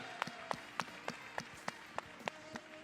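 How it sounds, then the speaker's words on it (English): Faint, evenly spaced claps repeat about three times a second in a steady rhythm, sounding more like a few hands clapping in time than a full crowd. "Give it up for Tony Richardson, everyone. Clap for Tony Richardson."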